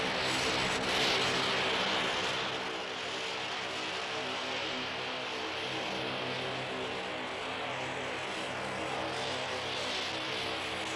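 A steady propeller drone from a Skyvan transport aircraft in flight, loud and continuous throughout, with no voices.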